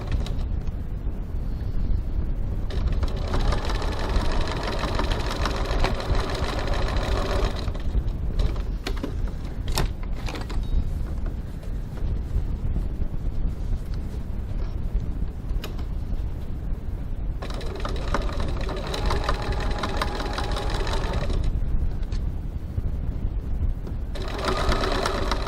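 Sewing machine stitching darts on a crossbody bag at a stitch length of 2.4, a loud, close, continuous mechanical whir with rhythmic stitching runs, brief slowdowns and creaks between passes.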